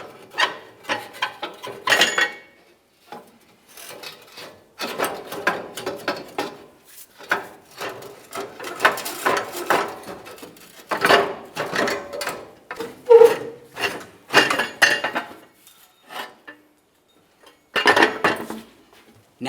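A catalytic converter pipe assembly is worked loose from a 2000-2006 Chevrolet Tahoe, giving irregular metallic clanks, scrapes and rattles in bursts with short pauses between, close and fairly loud.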